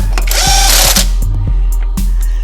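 Power tool whirring loudly and steadily while tightening lug nuts on the wheel of a 1966 Chrysler New Yorker, with repeated short ratcheting bursts throughout.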